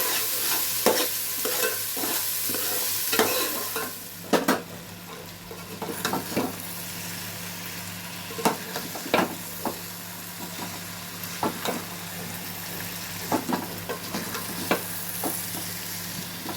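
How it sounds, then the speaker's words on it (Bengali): Spices being stirred and frying in a wok for a Bengali khichuri meal, a steady sizzle broken by repeated scraping strokes of a spatula, close and fairly loud, with no talking. "নেড়ে নিচ্ছি ভালো করে"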